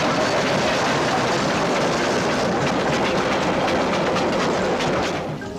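A restored AB class steam locomotive pulls tourist carriages along a railway line. It makes a loud, close, continuous rumble with rhythmic wheel clatter that eases slightly toward the end, with no speech.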